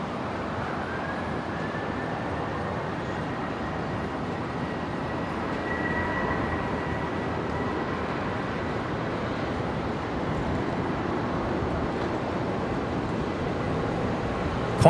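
A Qantas Boeing 737 rolls for takeoff at Brisbane airport, a steady broadband engine roar held at constant loudness for the whole stretch, with a faint tonal whine riding on top; no talking.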